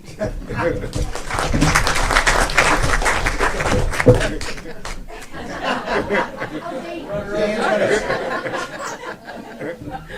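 Audience at a school board meeting applauding a high school principal, scattered clapping mixed with chatter and chuckles, fairly close and steady, with talk running through it.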